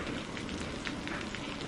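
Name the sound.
heavy rain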